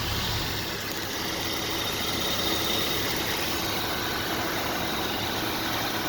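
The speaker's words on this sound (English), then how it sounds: "The engine runs very well." A steady car engine idles with a constant low rumble and hiss, no voices, running evenly throughout.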